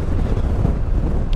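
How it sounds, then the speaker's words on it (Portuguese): Strong wind buffets the helmet microphone of a rider on a 2022 Honda Forza maxi scooter, a loud, rumbling low roar that swells and dips without pause. "está um vento do cacete. Caracolas, que vento."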